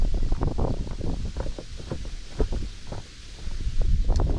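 Wind gusts buffet a boat on a lake while fishing for pike and perch, a continuous rumbling blow with rough low-end microphone buffeting and small knocks from the boat, without talk.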